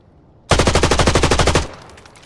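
A machine gun fires in the shooter game Arena: one loud, close, rapid burst of about fifteen shots lasting roughly a second, then a short fading tail.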